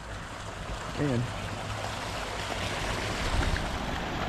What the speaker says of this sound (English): you hear the water rushing beneath us